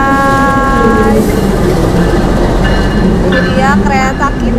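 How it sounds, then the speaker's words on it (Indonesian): A train rolls into a station on the Bandung–Jakarta line with a steady rumble and rail clatter, sustained tonal squeals of braking, and people talking over the noise. "Keretanya udah datang"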